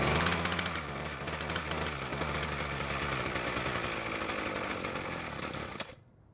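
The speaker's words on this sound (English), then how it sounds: "I'm going to try and start it again, except this time, I'm going to put the carb's choke lever somewhere between full and partial choke" A Ryobi string trimmer's small two-stroke engine runs with the choke set between full and partial, buzzing loud and steady and close for about six seconds before cutting out abruptly.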